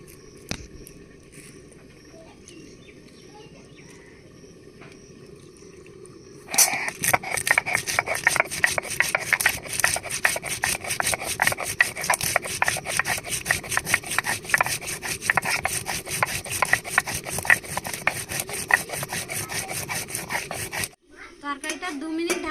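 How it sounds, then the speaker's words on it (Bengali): Black pepper and garam masala are ground together on a grinding stone, a fast rhythmic scraping and rasping of stone on stone that starts after a quiet stretch and keeps going for about fifteen seconds. "এবার গোলমরিচ গরম মশলা একসাথে বেটে নেবো"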